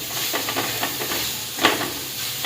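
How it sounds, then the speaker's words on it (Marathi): Grated coconut drops into a hot kadhai for a modak filling and stirs about with a steady dry sizzle and scraping, plus one sharper clatter partway through. "कढईमध्ये आता मी जे खोवलेलं खोबरं आहे ते टाकणार आहे।"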